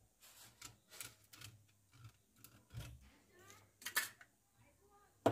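Thin plastic wrap crinkles and crackles as it is peeled off a brand new canvas, in quiet, intermittent rustling bursts close by.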